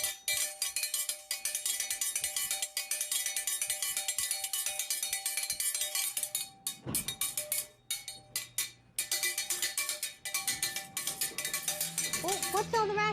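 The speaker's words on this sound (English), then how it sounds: "Adam made a dinner bell" A homemade dinner bell is struck again and again in rapid, ringing metallic clangs that sound close and fairly loud, with short pauses between bursts and some talking near the end.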